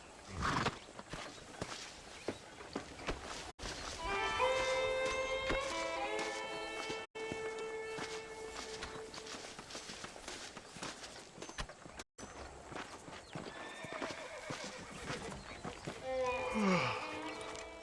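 Hooves clip-clop at a walking pace while a horse neighs and whinnies, with voices and other game sounds around it, in Red Dead Redemption.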